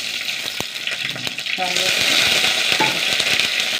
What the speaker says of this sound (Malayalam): കുറച്ച് വെളിച്ചെണ്ണ ഒഴിച്ചു കൊടുക്കട്ടെ ചൂടാവട്ടെ കുറച്ച് കടുക്